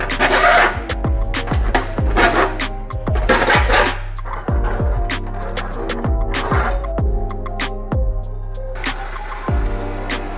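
An English wheel working a metal body panel, with repeated rhythmic rolling and rasping passes and sharp metallic clunks at each reversal, loud and close throughout.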